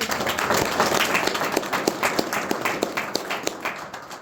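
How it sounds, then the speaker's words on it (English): An audience at a church community meeting claps enthusiastically, a dense wash of many hands with some sharper individual claps standing out, fading slightly toward the end. "So give a big clap."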